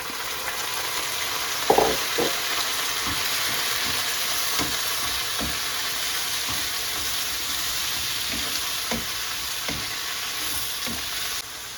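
Squid sizzles steadily in hot oil with tempering spices for a squid curry, a constant loud frying hiss broken by light stirring clacks and scrapes throughout, no talking.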